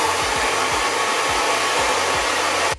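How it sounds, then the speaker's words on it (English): A Remington Silk hair dryer blows in a steady, loud rush of air, continuous throughout and cutting off at the very end. "I thought I would blow dry it today. This is the Remington Silk hairdryer."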